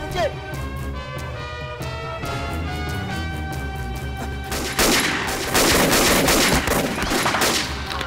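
Rapid bursts of gunfire crackle in quick succession, growing denser and louder toward the end, mixed with tense background music.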